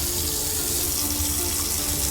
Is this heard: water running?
yes